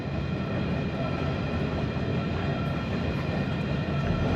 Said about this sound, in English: I don't think this train is ever going to end.